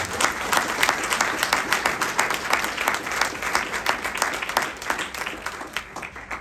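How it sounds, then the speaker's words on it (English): Sustained audience applause at a motivational keynote talk, a dense wash of many hands clapping steadily and evenly throughout, moderately loud with no voices over it. "Please give them a round of applause for the great work they're doing."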